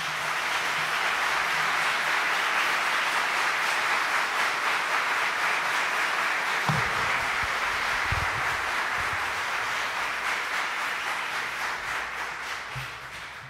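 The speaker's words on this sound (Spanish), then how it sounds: "El público les puede brindar un merecido aplauso." An audience applauds at a swearing-in ceremony for new lawyers at a Supreme Court, with sustained, even clapping from a hall full of people that slowly thins toward the end.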